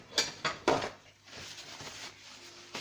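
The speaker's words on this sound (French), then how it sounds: "On va remettre le couvercle." A lid goes back onto a Compact Cook Pro cooking pot with grain bread dough inside: several sharp metallic clanks and taps up close, then lighter handling noises.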